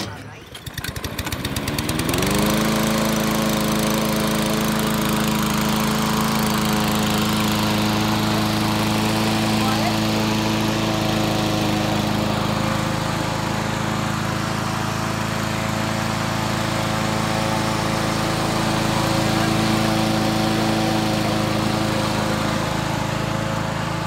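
A Ferris Z3X SRS riding lawn mower with a 61-inch deck starts up and settles into a loud, steady engine drone that runs close by for the rest of the clip.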